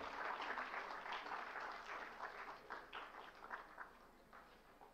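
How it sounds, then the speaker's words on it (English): Steady clapping from an audience at a university lecture, a dense wash of applause that fades slightly toward the end, fairly faint and distant. "to call on stage, please, Dr. Sudhir Mishra, with a big round of applause, ladies and gentlemen."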